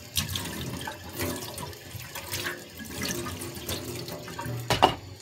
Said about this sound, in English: Rinse the bamboo baskets under cold water.